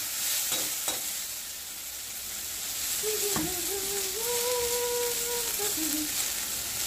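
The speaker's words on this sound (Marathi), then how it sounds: "इकडं मस्त पैकी खरपूस परतायचं गवाऱ्याला भाजी" Cluster beans (guar) bhaji fried and stirred in a pan, giving a steady sizzle with scraping stirs near the start, under a rising whistle-like tone in the middle.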